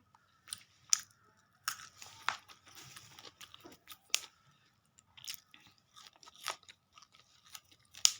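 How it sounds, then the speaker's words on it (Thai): Close crunchy chewing of a rice breakfast, irregular bites and munches with short quiet gaps between them, no talking. "บับพึ่งจะกินข้าวกันเจ็ดโมงเช้าทุกวันเลยนะคะ"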